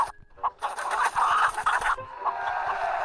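Chickens cluck over and over in a chicken-fighting video game, with short, busy bursts of fowl calls that rise and fall at a steady, fairly loud level close up.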